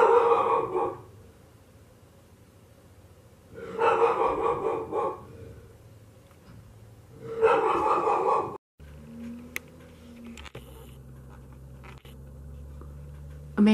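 A dog barks and howls in three loud bursts of a second or two each, separated by quieter gaps, followed by a low steady hum with a few faint clicks.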